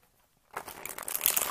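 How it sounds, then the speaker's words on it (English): A deck of tarot cards being shuffled during a reading, starting after a short silence as a dense run of riffling, papery flicks that builds steadily louder and continues alone, close up, with no talk. "I shuffle till one card falls out"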